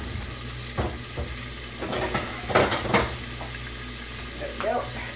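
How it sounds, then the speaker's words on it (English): MorningStar Farms breakfast sausage links sizzle steadily in a pan over medium heat, with occasional utensil clinks and pan scrapes over the continuous frying hiss. "we should probably put a lid on them and let them cook"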